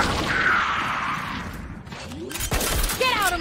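A grenade goes off in a tactical shooter game, a booming burst followed by rumbling debris and gunfire, with a player shouting over the action.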